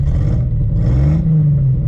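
An unwarmed car engine running on vodka in place of gasoline drones loudly up close, with a low steady rumble and a slight rise in pitch as the throttle is pressed, and no talking over it.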